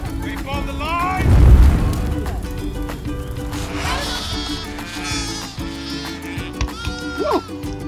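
Goats bleat here and there over a busy outdoor background at Butser Ancient Farm, with people talking nearby and one louder thud early on.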